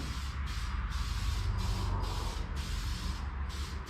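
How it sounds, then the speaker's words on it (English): Short bursts of spray from an aerosol can lay clear coat on a mini box truck's valve cover: several hissing blasts in a regular rhythm, each roughly half a second, separated by brief gaps. "Why, yes, I am clear coating this valve cover."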